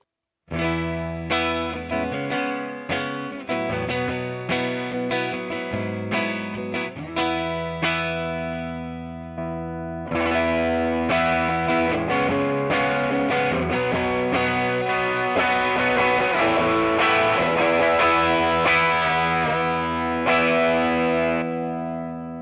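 Electric guitar strummed through Porter Classic and Blender humbucker pickups with distortion and effects, playing sustained chords in two passages split by a short break near ten seconds, loud and close with no talking.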